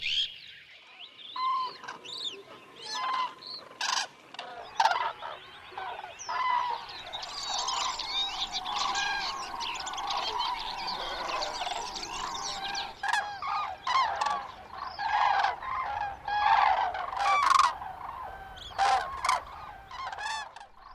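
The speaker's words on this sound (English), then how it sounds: "It's now filled with the noise of the cranes and other migrating birds arriving to their winter paradise." A dense chorus of cranes and other migrating birds calling at once in the Dehesa, overlapping honks and trumpeting cries rising and falling across a wide open space.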